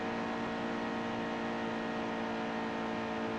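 A race car engine at full throttle in NASCAR Heat 2, a loud, steady, sustained roar with constant pitch that holds the whole time with no talking.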